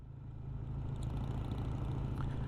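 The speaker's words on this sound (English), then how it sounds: "The engine's pretty strong." A Triumph Tiger 110 motorcycle engine running steadily on the road, a low, even throb that swells slightly at the start and then holds a smooth drone, with no talking over it.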